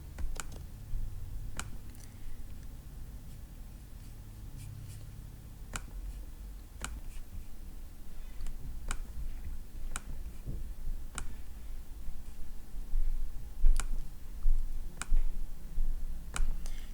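Crisp mouse clicks tick out one at a time at irregular intervals while angles are marked in GeoGebra geometry software, close up over a low steady room hum.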